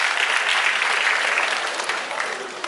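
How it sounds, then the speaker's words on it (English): An audience applauds at a tiger presentation at Dreamworld, a dense, sustained round of many hands clapping that fades slightly toward the end. "But how about we give Adira there a round of applause."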